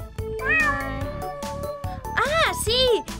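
A cat meowing close by, with several drawn-out, rising and falling meows in quick succession, one long call followed by two sharper ones, over and among a voice.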